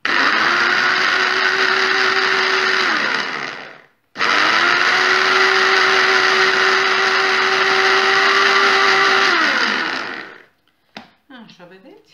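Electric hand mixer whipping chickpea water (aquafaba) into foam, a loud steady whine running for about four seconds, a brief stop, then a longer run of about six seconds before it cuts off, followed by faint clatter.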